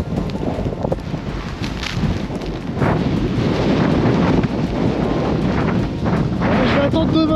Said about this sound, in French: Regardez-moi ce vent.